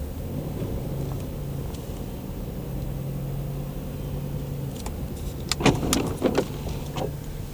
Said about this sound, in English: See a few cars on the street.